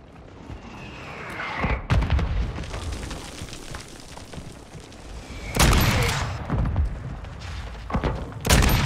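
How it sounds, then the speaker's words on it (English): Mortar explosions and gunfire in Call of Duty Modern Warfare 2, loud booming blasts and crackling shots arriving in heavy waves, with a couple of big detonations standing out over continuous battle noise. "Mortars, south side. Incoming!"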